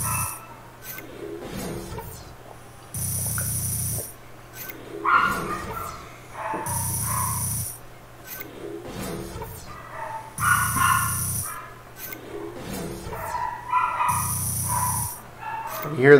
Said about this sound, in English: Hear the dogs, I'm sorry.